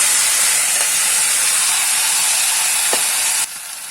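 Boiled jackfruit seeds go into hot oil with popped mustard seeds, curry leaves and green chili, making a loud, steady close-up sizzle and hiss that drops off abruptly near the end.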